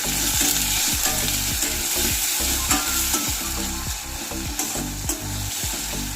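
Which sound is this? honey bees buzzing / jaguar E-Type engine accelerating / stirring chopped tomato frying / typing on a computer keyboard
stirring chopped tomato frying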